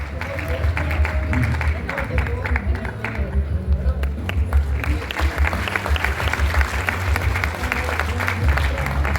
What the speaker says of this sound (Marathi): जोरदार टाळ्यांचा गजर झाला पाहिजे।